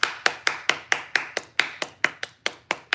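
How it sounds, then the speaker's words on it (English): Hand claps at a gathering, about a dozen sharp, evenly spaced claps in a steady rhythm, loud and close with little else around them. "Everybody clap your hands."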